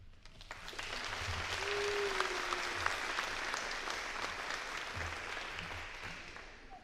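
Sustained audience applause at a nursing pinning ceremony on the Worthington campus, a steady wash of many hands clapping in a large room, with a few louder individual claps and faint voices beneath.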